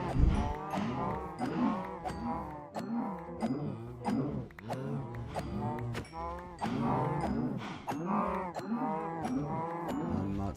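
Cows in a modded Minecraft game mooing again and again, overlapping low bellowing calls that come steadily and loud through the whole stretch, with no talking.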